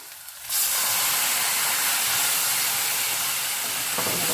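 Tomatoes hit hot oil in a pan alongside fried sea bream, setting off a sudden loud, steady sizzle that holds on without a break.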